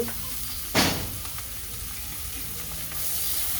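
Onion and egg bhuna frying in a pan, a soft steady sizzle with one brief clatter early on, fairly quiet and without talk.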